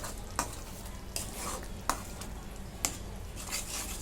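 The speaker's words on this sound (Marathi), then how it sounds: "आता ह्याच्यामध्ये खवा टाकून घेते, मिक्स करून घेते." Khoa is stirred into cooked spinach in a pan with a steady soft scraping and squishing, a faint sizzle underneath and a few sharp utensil taps against the pan at regular intervals.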